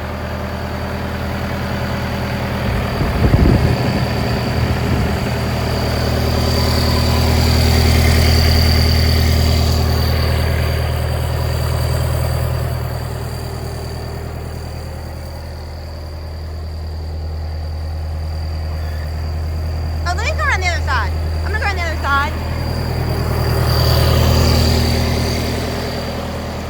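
A new 4.5L John Deere engine idles steadily on an Old Dominion Brush leaf vacuum truck, a loud continuous drone with a constant whine, briefly joined by someone speaking nearby.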